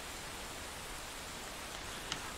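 Steady soft hiss of rain in a video game, a faint even wash of noise with no speech and no distinct drops.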